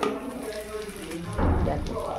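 Mutton frying in a wok, with a steady sizzle and crackle. It grows louder and fuller partway through, and a voice talks over it.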